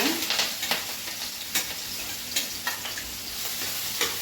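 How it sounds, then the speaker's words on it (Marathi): Chopped chili and garlic sizzle steadily in hot oil for a vadapav filling, with a continuous frying hiss broken by several sharp spatter pops and the scrape of stirring, close and moderately loud, with no voices. "आपण ही बारीक करून मिरची आणि लसूण घेतलेला आहे तो पण तेलामध्ये घालून घेऊया"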